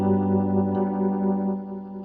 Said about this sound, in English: So that is your rotary sound